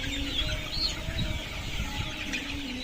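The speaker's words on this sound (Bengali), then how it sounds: "এগুলো যেগুলো দেখতেছেন সবগুলো হচ্ছে কাজী কম্বালে হাইল্যান্ড গ্রুপের লেয়ার মুরগি" Layer hens of the Kazi Combale Highland group in a 70-day batch cluck and murmur steadily in a flock, soft overlapping calls over a constant low barn hum with no speech.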